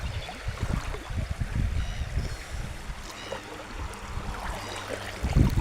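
Strong river current flowing fast past a metal detector hunter on a coin hunt, a steady close rushing, gurgling wash with low churning turbulence throughout, no voices.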